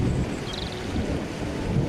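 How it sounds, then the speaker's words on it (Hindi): Heavy rain pours steadily in a dense, loud wash of noise with low rumbling underneath, with no voices. "इतनी बारिश हो रही है"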